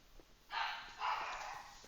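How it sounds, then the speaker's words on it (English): Two bursts of barking from pugs in the background, the second a little stronger, faint and somewhat distant against a quiet room. "Dogs are barking."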